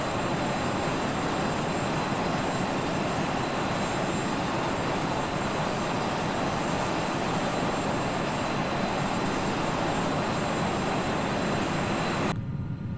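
An airliner takes off and climbs in the X-Plane 11 flight simulator, leaving East Midlands Airport: a steady, loud, broad engine roar holds evenly for about twelve seconds before cutting off abruptly.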